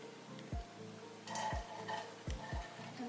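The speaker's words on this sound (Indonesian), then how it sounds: "menumis bawang bombay dan bawang putih sampai harum" Onion and garlic sautéing in a pan, a quiet background sizzle punctuated by several dull low thumps and clinks of a utensil against the cookware, close but faint.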